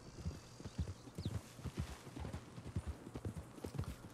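Horse hooves clip-clopping at a steady trot in Red Dead Redemption II, a rhythmic run of hoofbeats with a brief whinny near the start, fairly quiet overall.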